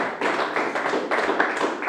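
Congregation applauding during a Spanish-language church service, a dense, steady wash of many hands clapping close by with small surges, continuous for the whole stretch with no voices.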